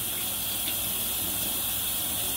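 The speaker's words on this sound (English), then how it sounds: "So you mix it and then you run it under water" Tap water gushing steadily over electric mixer beaters at a sink, a continuous close hiss with no pauses.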